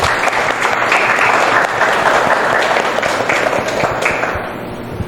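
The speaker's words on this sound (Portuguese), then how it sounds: "uma salva de palmas" Dense, steady applause from an audience at a live discussion circle, loud and continuous for several seconds with no voices.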